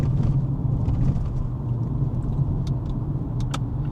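A car rolling along a rough, bumpy highway surface gives a steady, loud low rumble of tyre and road noise with faint thumps and rattles over the joints.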